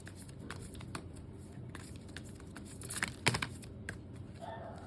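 Tarot cards being shuffled: quick, soft, rapid riffling and flicking, close and fairly quiet, with a couple of louder slaps near the end.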